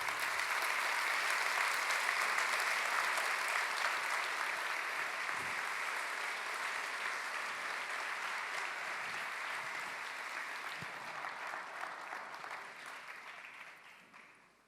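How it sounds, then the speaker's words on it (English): Long, sustained audience applause at the opening session of the GESF 2017 education forum, a broad even roar of many hands that holds for over ten seconds before tapering away, heard at some distance. "A big round of applause, please,"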